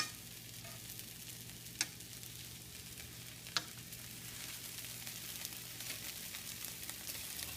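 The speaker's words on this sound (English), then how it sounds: "we are going to let these sit for just a minute until they reach a nice golden brown on the side" Sandwiches with ham grill in a pan, giving a steady, even sizzle that runs the whole time, with two brief sharp ticks partway through and no talking.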